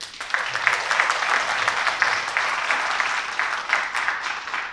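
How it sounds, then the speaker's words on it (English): A school orchestra concert audience gives a sustained round of applause, a dense even wash of many hands clapping from across a hall, steady in level with no voices over it. "I want to give them a round of applause"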